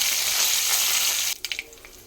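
Dried red chillies, seeds and curry leaves crackle and sizzle loudly in hot oil in a pan, a steady hiss that drops away after a couple of seconds into a few scattered pops and clinks.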